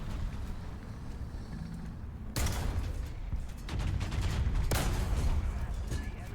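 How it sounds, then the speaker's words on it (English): Tank cannon fire in a World War II tank battle game, with heavy booming shots from several tanks including a Maus, Super Pershing and T-34, two sharp loud blasts standing out over a continuous rumbling low battle din. "There seems to be quite a few tanks shooting at me now."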